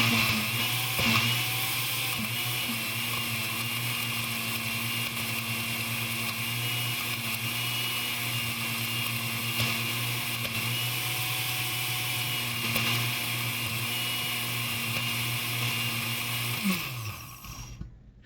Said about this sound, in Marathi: हे बघा, मी इथे हा मिक्सर लावत आहे